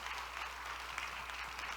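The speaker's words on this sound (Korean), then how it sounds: "뜨겁게 박수로 한번 축복하겠습니다." A church congregation in Korea claps together during a missionary commissioning service, producing a steady, dense wash of applause that holds at an even level throughout, slightly distant with a low room hum beneath.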